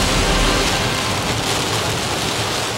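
Dense, steady roar of heavy rain pouring down in Metro Cebu, loud and continuous with no pauses or voices.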